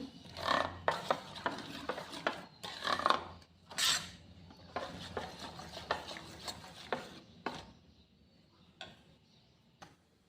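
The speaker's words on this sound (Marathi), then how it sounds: "कोथिंबीर टाकून घ्यायची आहे आणि हे मिक्स करायचं आहे आपल्याला" A spoon stirs rice batter with chopped coriander in a bowl, giving close, irregular clicking taps and scraping strokes in clusters that gradually thin out, with no voices.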